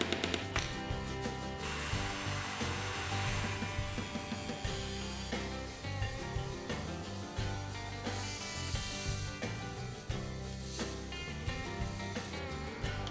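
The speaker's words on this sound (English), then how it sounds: "I put in the nail that I will use as pivot and cut off the part that's left over." An excess length of nail used as a folding knife's pivot is cut off by hand, a close, rapid, rasping metallic scrape repeating in uneven bursts for several seconds without talking.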